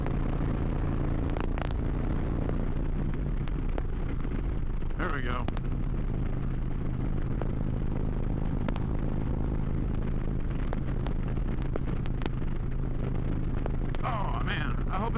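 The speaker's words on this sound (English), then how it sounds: "It's really windy. You can hear it in my helmet pretty good." Strong wind buffeting inside a motorcycle helmet on a night ride through the city, a steady loud roar and rumble throughout with brief speech.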